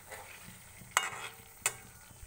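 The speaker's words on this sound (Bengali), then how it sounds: "আমি পটলগুলো ছেড়ে দিয়ে একটু নেড়ে নিচ্ছি, যাতে সর্ষের সঙ্গে পটলগুলো একসঙ্গে মিক্সড হয়ে যায়।" Pointed gourd (parwal) pieces being stirred in a pan with mustard paste, giving a soft steady frying hiss with two sharp scraping clinks of the spoon against the pan.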